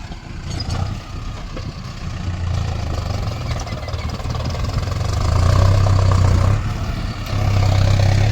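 A motor runs steadily at close range in a rural village setting, a continuous low engine drone with a rising and falling hum and faint background noise, and no voices over it.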